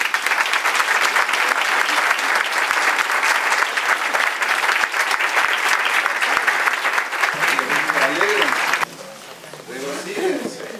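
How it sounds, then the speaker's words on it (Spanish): A congregation in church breaks into loud, sustained applause with dense clapping and some cheering. The clapping drops away near the end as the room quiets. "Un aplauso grande."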